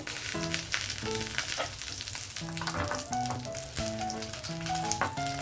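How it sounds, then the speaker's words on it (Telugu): Garlic frying in hot ghee, a steady loud sizzle running throughout with background music playing over it. "నెయ్యి వేడెక్కగానే ఫస్ట్ అది వెల్లుల్లి వేసాను"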